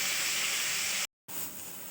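A pressure cooker steaming papaya on a home stove gives off a loud, close, continuous hiss of steam, cut by a brief sharp gap before the hiss resumes.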